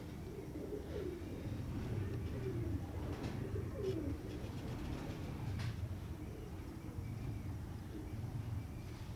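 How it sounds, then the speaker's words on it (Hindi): Soft, low cooing of Teddy pigeons repeats against a steady background hum, with a few brief higher chirps scattered through. "ये टैडी कबूतर हैं, अनमोल टैडी इनके"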